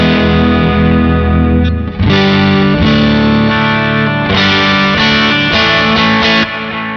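Fesley ST-Natural Strat kit electric guitar played through heavy distortion, loud sustained chords and riffs with a brief dip near the two-second mark and continuous playing after.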